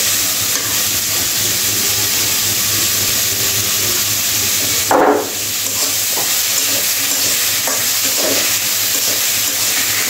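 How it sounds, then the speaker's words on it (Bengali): Small river fish are stir-fried with salt in a pan, making a steady close sizzle and hiss with stirring scrapes and a brief louder burst in the middle. "ভালো করে নাড়াচাড়া করে কষিয়ে নেব"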